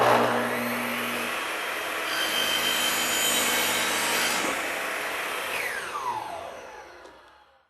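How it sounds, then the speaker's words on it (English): A miter saw slices a 45-degree miter into the end of a run of cabinet trim, its loud steady motor whine and broadband cutting roar lasting several seconds before spinning down and fading at the end. "take our miter saw and create a 45-inch degree angle in order to create that miter on the end of the run"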